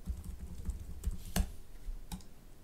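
Someone types a desktop sticky note on a computer keyboard in quick, close key clicks at an uneven rhythm, with one sharper tap standing out.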